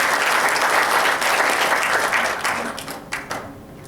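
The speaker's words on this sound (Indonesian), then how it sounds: "Kasih tepuk tangan sekali lagi yang luar biasa ya." A room full of people applauding after a talk, dense sustained clapping that holds strong and then thins and fades toward the end.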